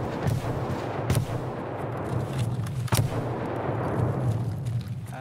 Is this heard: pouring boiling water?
no